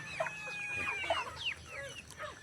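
Backyard hens kept for eggs in a rural province cluck and chatter steadily at close range, with overlapping calls and soft squawks throughout and no talk.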